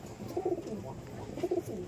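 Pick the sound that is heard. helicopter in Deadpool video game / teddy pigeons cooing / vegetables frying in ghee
teddy pigeons cooing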